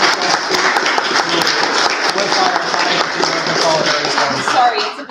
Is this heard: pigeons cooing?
no